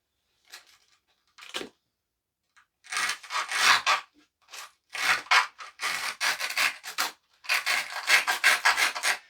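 Dull knife scraping and cutting at a skateboard setup, heard as a series of short, close, rough rasping strokes in irregular bursts separated by brief pauses.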